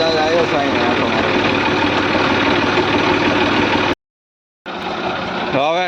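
A farm tractor engine runs loud and close with a steady, even chug. The sound cuts out briefly for under a second, then resumes just as strongly.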